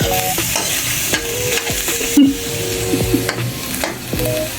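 Ground pork giniling frying in oil: a busy, fairly loud sizzle with sharp pops and crackles going off irregularly throughout, along with scraping and clinking from the pan.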